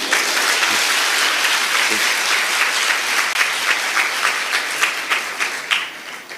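A crowd applauding during a talk, a broad wash of clapping that thins into distinct individual claps toward the end, with a voice faintly underneath.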